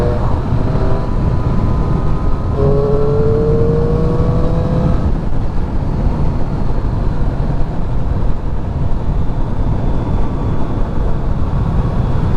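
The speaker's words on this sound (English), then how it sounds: "One thing that I really like about Triumph bikes is the intake sound." Intake and engine drone of a Triumph 675 motorcycle at riding speed, a steady loud roar with rising tonal whine during acceleration and wind rush throughout, no talk.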